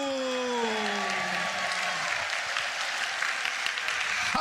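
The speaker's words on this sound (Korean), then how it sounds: "하나님의 성령님께 영광의 박수" A Korean church congregation gives a round of applause to the Holy Spirit during a pastor's sermon, a steady, even clapping from many hands. It follows the preacher's voice trailing off at the start.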